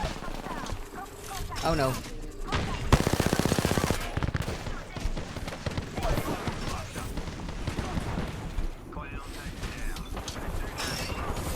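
Gunfire in an Apex Legends match, rapid automatic bursts and single shots cracking in quick runs, loud and close, mixed with a player's excited talk.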